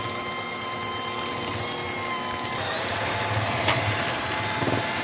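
An electric mixer whirs continuously while creaming cookie dough with egg and vanilla, a steady motor hum with faint scraping and a small shift in pitch partway through.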